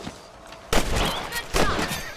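Rifle shots in the Red Dead Redemption game, two loud close cracks with echoing tails about a second apart.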